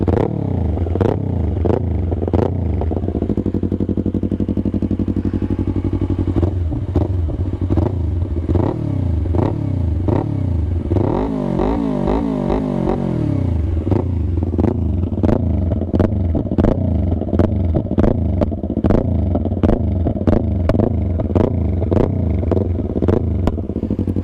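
A loud motorcycle exhaust idles and revs repeatedly up close, rising and falling in pitch with sharp crackles and pops throughout.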